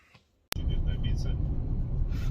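Car heading off to work at dawn: a sharp click, then a steady low engine rumble and road noise inside the cabin, loud and continuous.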